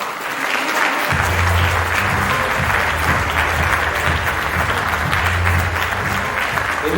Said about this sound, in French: je vous demande d'applaudir très fort l'ensemble des associations marpentoises de Marpan